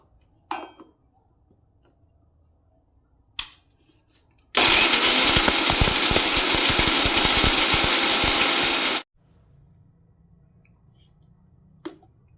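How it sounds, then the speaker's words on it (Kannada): A kitchen mixer grinder (mixie) whirs loudly for about four seconds, grinding ridge gourd chutney ingredients with green chillies, salt and jaggery, bracketed by a few brief clicks of handling before and after, no talk. "ಮೊದಲು ಇದನ್ನು ಮಿಕ್ಸಿ ಹಾಕೋಬೇಕು"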